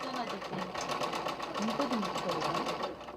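A sewing machine runs steadily as staff mend worn children's clothes at a children's home in Nepal, its rapid, even stitching rattle continuing throughout with a voice speaking over it.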